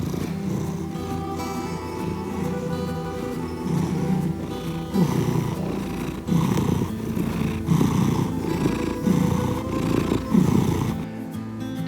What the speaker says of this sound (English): He didn't stop purring all night.